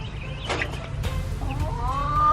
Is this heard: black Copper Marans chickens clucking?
yes